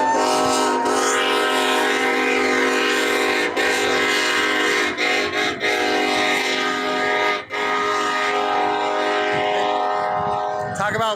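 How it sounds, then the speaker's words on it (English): Freight train rolling past close by, a loud steady rumble and clatter with a sustained horn blast running throughout and brief gaps in the tone. "So we got the freight train coming through."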